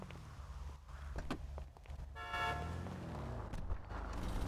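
A car horn in the video game GTA 5 sounds one sustained honk of about half a second midway, over a low rumble of road traffic, fairly close and moderately loud, with no talking.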